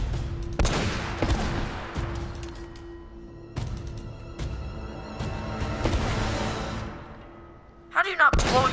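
Gunfire and a heavy blast in the video game Uncharted: Drake's Fortune, a few sharp shots early on, then quieter shooting with a loud burst near the end, under light speech.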